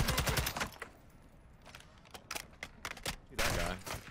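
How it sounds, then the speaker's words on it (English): Bursts of rapid automatic gunfire in Warzone 2 (Modern Warfare 2) crackle in quick clusters, loud at the start and again near the end, with quieter scattered shots between. "There's another one shooting me too."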